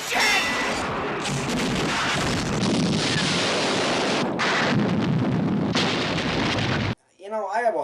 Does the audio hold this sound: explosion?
yes